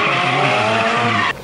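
A VAZ 2108 fitted with an Audi V8 roars loudly and steadily at high revs, a dense sustained engine note that cuts off abruptly near the end.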